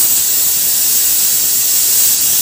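A pressure cooker vents steam while cooking beef trotters for paya, giving a loud, steady, unbroken hiss that fills the whole stretch with nothing else over it.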